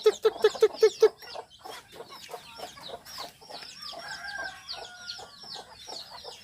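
Chickens around an egg-laying nesting area in Isabela province cluck. A quick series of sharp, close clucks opens, then softer, scattered clucking and chatter continue, with other calls in the background.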